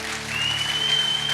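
A church congregation applauds the Lord during a service, a short steady burst of clapping with a faint sustained tone in the room behind it.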